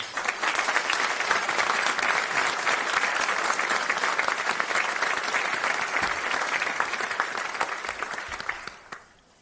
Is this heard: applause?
yes